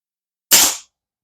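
A single sharp air pistol shot from a Diana Chaser with a bottle conversion, a loud close crack with a brief decay and silence around it.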